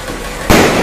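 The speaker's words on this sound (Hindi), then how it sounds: "भाई पप्पू लाया पहला बम" A Diwali firecracker goes off with a sudden loud, sharp blast, close by and outdoors after a moment of background noise.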